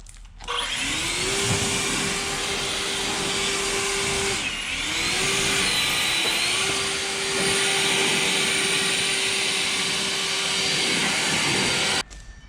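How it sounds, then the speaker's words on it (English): Leaf blower or air tool roaring steadily over old red oak boards to clear carpenter ants off them, a loud continuous whoosh with a pitch that dips and rises before cutting off. "My old boards have ants on them. I'm gonna try to blow them off here."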